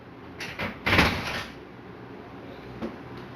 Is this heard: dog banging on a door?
yes